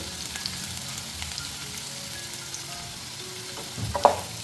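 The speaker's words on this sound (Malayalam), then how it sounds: "ഇതൊന്ന് നന്നായിട്ട് വഴറ്റിയെടുക്കാം" Onion, green chili and curry leaves sauté in a pan for bitter gourd curry, giving a steady, close sizzle throughout with a brief stir or scrape near the end.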